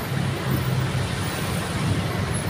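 Steady road traffic rumble on a busy Philippine street, a continuous low engine drone from cars and buses that stays close and fairly loud for the whole stretch, with no speech over it.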